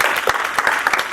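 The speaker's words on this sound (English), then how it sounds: "let's give them a round of applause." An audience at a job search strategies session applauds in a short burst of dense, close clapping that lasts about a second.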